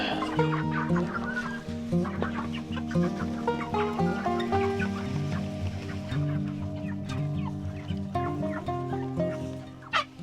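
A flock of meat chickens on a small farm clucks and chatters continuously nearby, many overlapping calls forming a busy barnyard din.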